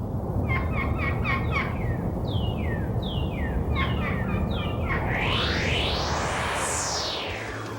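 A turkey mouth call imitates a gobbler, producing repeated rattling gobble bursts and descending yelps, followed by longer rising and falling calls, all close and loud over a steady background hiss.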